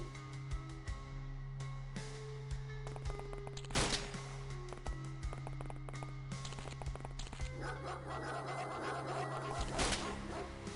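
Dog barks in the X-Com Files game, a few short yaps scattered among clicking, thumping combat effects and a steady low hum, fairly faint overall with no speech.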